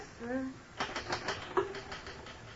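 Typewriter keys clack in a short rapid run in an old time radio drama set in an office, following a brief spoken line, with close, crisp strikes that fade off near the end.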